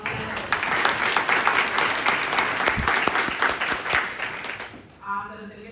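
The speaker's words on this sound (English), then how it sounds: "Can we give her a round of applause?" Conference audience giving a round of applause for a panel speaker, dense clapping that gradually fades before a voice starts speaking near the end.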